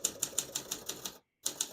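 Crisp, evenly spaced keystrokes clack on a 1952 Olympia SM2 portable manual typewriter, about seven strikes in a steady rhythm, then a brief silence before two more strokes, close up and alone.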